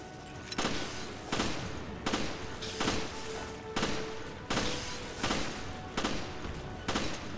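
Gunfire in Resident Evil Revelations, Raid Mode stage Flood: a steady series of about nine loud, sharp shots at roughly even intervals, each with a short ringing tail, over a low game ambience and no talk.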